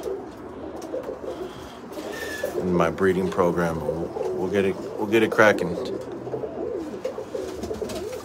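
Spinner pigeons coo in a loft with repeated throaty rolling calls, fairly close and overlapping, while someone talks over them.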